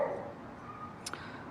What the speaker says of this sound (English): So we have some dogs barking on the background